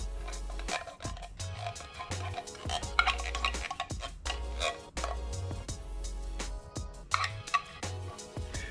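A small plastic spoon scraping cream of mushroom soup out of a can: repeated short scrapes and taps in uneven bursts, close and fairly clear, with no talk over them.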